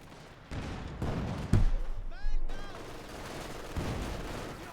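German machine gun and grenade fire in Company of Heroes 2, with scattered bursts of gunfire, a sharp explosive crack midway and whistling shells, a voice talking underneath throughout.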